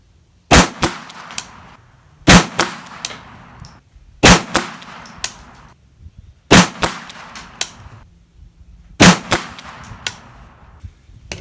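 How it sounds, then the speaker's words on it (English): A PSA AKV 9mm carbine fitted with a Nikon red dot fires five loud, sharp shots about two seconds apart. Each shot is followed by brief ringing clangs and echoes. "fourth 5-shot group"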